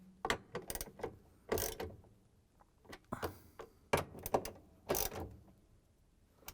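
Bolts being tightened on a GE washer drain pump, model WH23X28418, with close, irregular ratcheting clicks and metallic rattles in short bursts, quiet and without talk.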